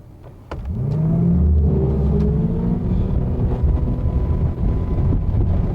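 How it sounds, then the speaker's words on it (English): A triple-pontoon boat's outboard engine surges from idle to wide open throttle, its pitch climbing quickly and then holding at a loud, steady roar with heavy wind buffeting the microphone. "from 30 to wide open throttle, which on this boat is about 48 miles an hour"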